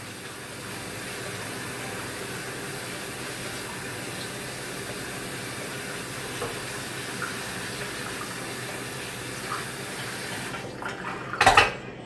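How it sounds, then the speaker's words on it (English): Cold tap water pours steadily into a sink over freshly cooked vegetables at a barbecue prep, a constant splashing rush that runs unbroken, ending with a brief clatter of handling near the end. "I'm just running them under some cold water to help cool them off faster too."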